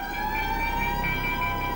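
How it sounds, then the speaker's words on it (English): Air raid sirens wail across England in 1939, a sustained rising and falling tone with layered harmonics holding steadily over a low background rumble. "air raid sirens across England signaled the approach of war"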